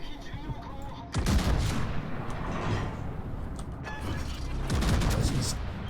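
Main-gun salvos from the battleship Yumihari in the naval combat game World of Warships: two heavy booming volleys about three and a half seconds apart, each with a long rumbling tail over continuous background noise.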